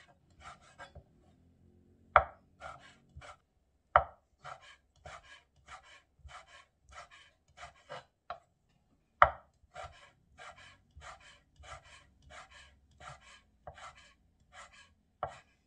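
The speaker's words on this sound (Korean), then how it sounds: "네, 이렇게 가늘게 썰어야 돼요." A knife finely julienning ingredients on a cutting board for Korean chiljeolpan taps out rapid, regular bursts of crisp chops, close and clear, with brief pauses and a few louder knocks between runs and no talking.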